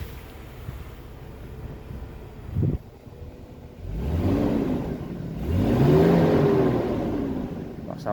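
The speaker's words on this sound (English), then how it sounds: "I'll give the engine a rev so you can see what it sounds like." A 1991 Mercedes-Benz 300E 12v 4Matic with 170k miles idles quietly, then its engine is revved twice, each rev rising and falling in a smooth, loud swell, the second longer than the first.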